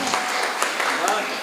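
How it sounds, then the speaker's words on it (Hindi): Audience clapping at a Hindi comedy poetry show, a dense steady patter heard briefly throughout. "तो ऐसा झूम के ताली बजाना है"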